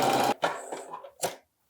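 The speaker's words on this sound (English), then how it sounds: "Now zigzag stitch." A sewing machine runs a short zigzag stitch on a tie top, one close burst followed by two brief stops and restarts.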